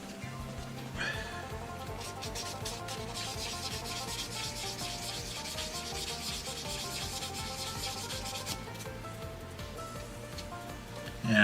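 A plastic part from a Gunpla Zaku Cannon model kit is sanded with sandpaper in fast, even back-and-forth strokes, a steady close scratchy rasp that runs almost unbroken to the end.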